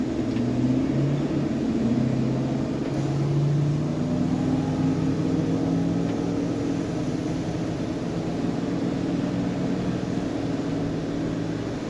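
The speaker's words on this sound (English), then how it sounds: "even with the throttle to the floor, that transmission is just, that Allison is so smooth shifted" A 2008 Damon Astoria Class A diesel motorhome with an Allison transmission accelerates hard with the throttle floored, giving a steady, moderately loud engine drone and road rumble from inside the cab, with no talking.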